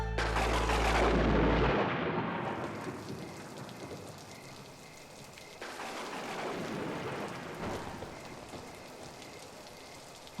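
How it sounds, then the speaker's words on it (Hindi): Heavy rain pours down steadily in a dense, loud roar, with a deep rumble at the start like distant thunder. "एकदम घमासान बारिश हो रहा है। ये बारिश रुकने का नाम ही नहीं ले रही है"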